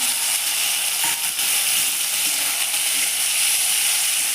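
Tomatoes sizzle in a pan with roasted garlic and ginger for dal palak, a steady bright hiss of frying that stays loud and even from start to finish.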